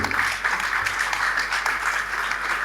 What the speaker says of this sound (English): can you give this panel a round of applause?